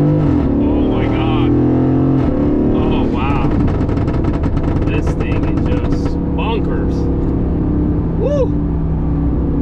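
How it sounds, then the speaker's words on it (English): A 2020 Aston Martin Vantage with engine and suspension in Sport Plus mode accelerates hard, its loud engine roar rising and surging continuously from up close as people talk and exclaim over it. "I'm gonna give it a little bit of gas."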